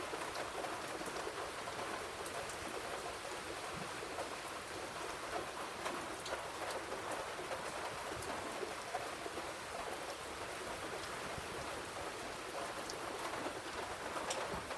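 Steady rain pours down at night, a dense, continuous hiss with scattered drop patters, even and unbroken throughout with no voices.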